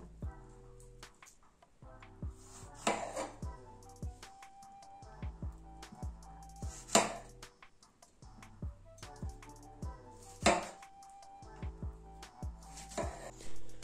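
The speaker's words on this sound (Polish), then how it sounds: "ja sobie pokroję te truskawki na pół" A knife cuts fresh strawberries in half on a board while making a homemade strawberry cake, giving a series of soft, quiet ticks and taps at an uneven pace, close and fairly faint, with no talking.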